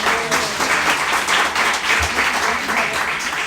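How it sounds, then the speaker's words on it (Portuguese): A Portuguese-speaking church congregation applauds steadily, a dense, continuous round of clapping from many hands filling the sanctuary throughout, with faint voices mixed in. "Vamos aplaudir ao Senhor pela vida dela."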